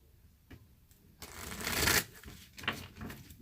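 A deck of cards being shuffled, a quiet riffle building into a louder fluttering burst, then a few softer card taps.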